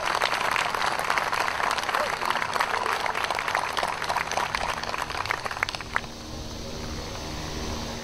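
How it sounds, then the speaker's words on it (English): Audience applause at a naval retirement and change of command ceremony, a dense crackle of many hands clapping that stays loud for about six seconds, then cuts off into quiet room tone. "How about another big round of applause for Nancy?"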